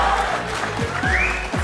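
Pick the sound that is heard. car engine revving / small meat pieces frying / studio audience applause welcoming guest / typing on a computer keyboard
studio audience applause welcoming guest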